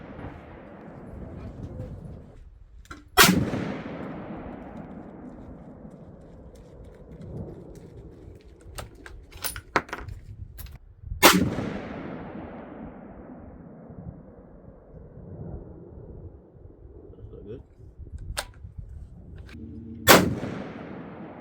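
Loud rifle shots from a CZ 600 Alpha chambered in 6.5 PRC, three sharp cracks spaced several seconds apart, each rolling into a long echoing boom, with quieter handling noise and faint talk in between.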